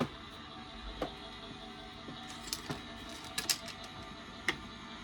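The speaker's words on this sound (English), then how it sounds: "I'm going to take my die cutting plates for my Gemini. It's going to be a bit noisy while we run that through." An electric Gemini die cutting machine runs plates through with a low steady mechanical hum, punctuated by a few faint clicks and ticks, quiet and close.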